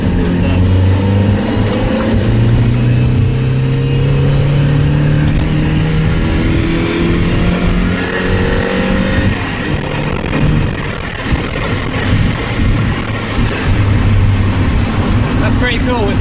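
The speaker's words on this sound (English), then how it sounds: "so I'll be able to have a little bit of a squeeze of the throttle soon. See how it sounds at full rev." A Mazda MX-5 under restoration revs hard through its newly fitted exhaust, a loud, steady engine drone with rising throttle swells that fills the whole stretch, close to the car.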